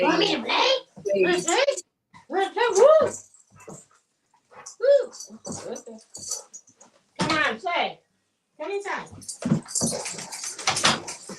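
Golden retrievers playing close by, giving repeated whimpers, yips and excited vocal bursts in irregular spurts while someone talks to them.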